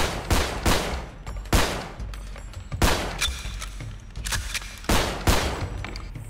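Gunfire in a GTA 5 roleplay game, several loud bursts of shots repeated in quick clusters across the clip, with short gaps between them and no talking.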